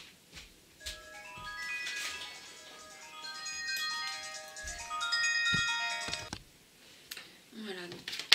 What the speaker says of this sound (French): Excusez-moi, j'ai le téléphone.